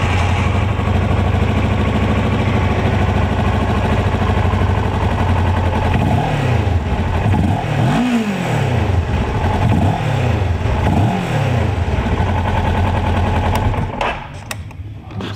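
2007 Kawasaki EX650R sport bike engine running loudly up close, with a rough, popping idle and several rising-and-falling revs in the middle before it cuts off near the end.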